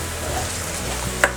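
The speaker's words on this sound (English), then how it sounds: "I'll be frying the crayfish in this tomato for about 3 minutes." Ground crayfish fries in tomato sauce while being stirred, giving a continuous close sizzle with a single faint utensil clink near the end.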